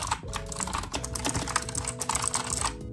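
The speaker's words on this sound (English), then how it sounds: "I also feel important clicking that loud" Fast, steady typing on a Razer Huntsman mechanical keyboard, a dense run of loud, close key clicks over a faint electrical hum.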